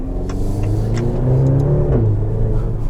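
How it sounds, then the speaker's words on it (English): A 2023 Maserati Grecale Modena Limited Edition accelerates under decent throttle, its engine rising in pitch, then briefly dropping through an upshift before pulling again, heard close from inside the cabin. "That was the first time I actually had upshifted at decent throttle, and that was cool."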